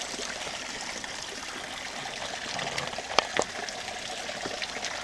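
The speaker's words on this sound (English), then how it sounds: "This is coming right out from underneath the rocks. It's a natural spring." Natural spring water flowing out from under rocks at Twin Mountain, a steady close trickle and gurgle with a few brighter splashes in the middle, alone without talk.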